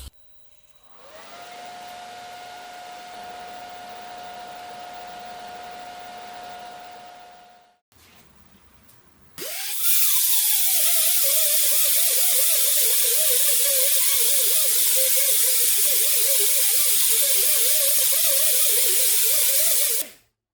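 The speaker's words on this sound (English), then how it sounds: "there's a few pits that I'll fill up with silicone bronze filler rod" A torch roars steadily while brazing pits on a pedal car with silicone bronze filler rod: first a quieter, even hiss with a tonal whine, a brief drop, then a louder, broad, sustained roaring hiss until it cuts off.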